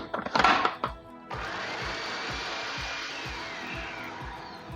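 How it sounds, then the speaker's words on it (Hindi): Electric grinder pulverising green chillies in a home kitchen, a few knocks and short whirs, then a steady, loud, even grinding drone that runs without pause. "तो ये सबसे पहले मैं इसमें हरी मिर्चें डाल के इसको मैं पीस रही हूँ।"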